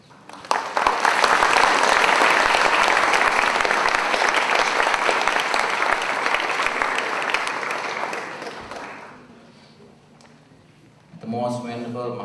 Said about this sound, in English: please give another applause